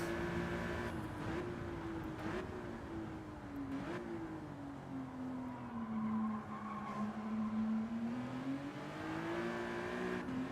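A race car in Gran Turismo 7 on the Deep Forest track, its engine droning steadily with a rising and falling pitch as it takes corners, plus light tyre scrub, holding continuous and fairly loud for the whole stretch.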